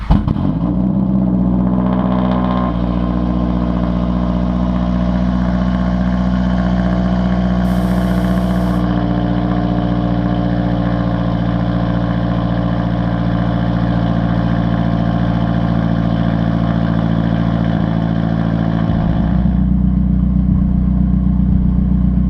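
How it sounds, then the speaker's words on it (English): A bagged, big-turbo Mazdaspeed 3 (2019 build) with a fully straight-piped exhaust runs loud and close, a deep steady idle that holds for most of the stretch before the engine note shifts near the end. "The car is fully straight pipe, so it is very loud."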